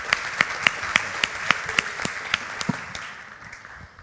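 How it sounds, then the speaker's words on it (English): Forum audience at a 2018 internet conference applauds after a group-session wrap-up, with a few distinct loud claps standing out over a bed of scattered applause that thins and fades toward the end. "another round of applause for Felix in Group 1"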